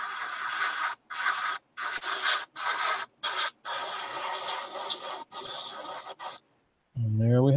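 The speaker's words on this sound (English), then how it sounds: "do another final spray" An airbrush sprays paint onto a miniature in a string of short, close hissing bursts separated by brief silences, followed by a voice at the end.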